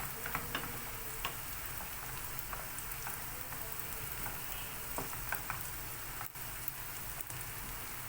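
Butter melting and sizzling in a pan with rice, a faint, steady crackle with scattered small pops throughout and no talking.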